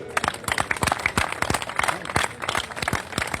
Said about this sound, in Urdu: اسٹیج کے اوپر جو قائدین ہیں وہ پنڈال میں موجود ساتھیوں کے لیے آج بھرپور تالیاں بجائیں۔